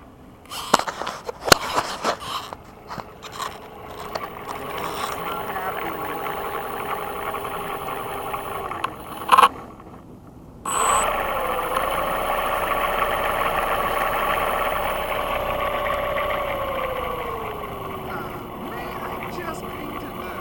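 A small model Gee Bee airplane motor runs at a field, with a steady buzzing whine that cuts out briefly, then returns and sweeps down in pitch, under occasional talk nearby.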